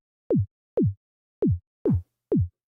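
Five synthesized kick drum hits built in Surge XT, each a punchy thump with a fast downward pitch sweep into a low tail, spaced roughly half a second apart and heard alone; the fourth has a slightly brighter click.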